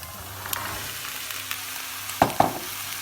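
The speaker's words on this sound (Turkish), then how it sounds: "Onları da şöyle salçanın kokusu gidene kadar kavuralım." Beans sautéing with tomato paste in a pan, a soft steady sizzle broken by a few sharp stirring scrapes and clinks near the end, no voices.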